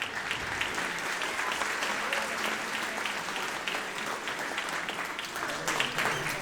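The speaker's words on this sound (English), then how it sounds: "Round of applause for our percussion section." Audience at a middle school fall band concert applauding the percussion section, steady dense clapping throughout the room at moderate level.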